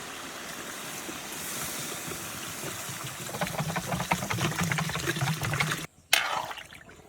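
Water runs and trickles into a large cooking pot for a five-kilo batch of pancit bato, a steady liquid wash that grows louder and splashier midway, briefly cuts out, then resumes.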